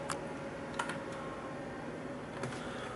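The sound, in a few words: pressing F12 key on a keyboard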